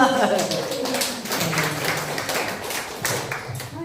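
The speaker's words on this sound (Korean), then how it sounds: "박수 한번 주세요" Elderly residents at a care home clap for a singer about to perform, a loose, uneven patter of hands at close range, mixed with talking and a few thumps.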